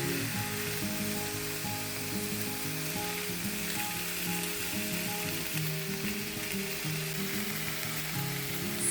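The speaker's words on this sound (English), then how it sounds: "Fry on high heat 12 minutes until nicely browned." Food fries in a pan on high heat with a steady, even sizzle that continues close and unbroken throughout, with no talk.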